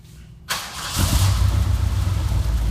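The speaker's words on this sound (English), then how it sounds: "Go ahead and fire it up, will you, Kyle?" A 1973 Ford Torino Sport Fastback with a 351 Windsor V8 cranks briefly after a quiet moment, then catches and settles into a loud, rumbling idle that carries on close up.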